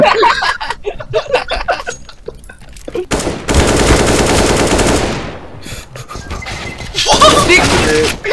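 Rapid video-game gunfire rattles in a dense, loud burst lasting a couple of seconds, with bursts of laughter and voices around it.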